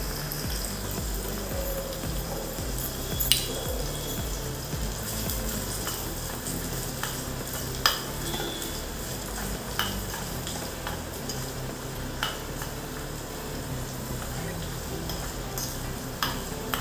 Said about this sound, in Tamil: நம்ம வெங்காயத்தை போட்டு நல்லா வதக்கிக்கலாம்.